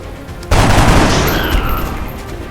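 Gunfire in the video game XCOM: Enemy Unknown bursts out loudly after a quieter moment, a sharp blast followed by a sustained rattling volley that fades slightly toward the end.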